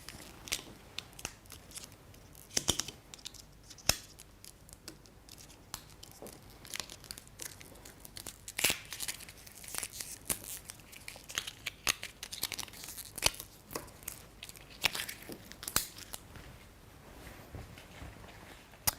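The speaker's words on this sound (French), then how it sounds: "À l'aide de mon sommelier, je vais couper toute la partie papier, ici," A sommelier's knife cuts and tears the foil capsule from a sparkling wine bottle in a run of sharp, close crinkling and ripping bursts, with no talk over it.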